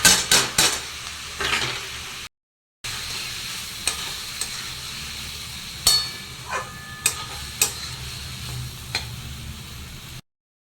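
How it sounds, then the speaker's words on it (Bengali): Green mung dal tadka sizzles in a pan while a spoon stirs it, with clinks and scrapes against the metal over continuous frying hiss, broken by two brief silent gaps. "আমি কিছুক্ষণ নাড়াতে থাকবো মানে কষিয়ে নিচ্ছি"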